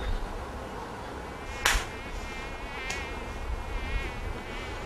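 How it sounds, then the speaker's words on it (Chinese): Several mosquitoes buzz close by in a high, thin, wavering whine that drifts in pitch, with a few brief louder swells against a steady low background. "很多蚊子嘞"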